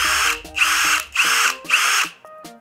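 An HL Premier 818 cordless brushless drill runs at speed 1 in four close, loud whirring bursts of about half a second each, separated by short dips, with no talking.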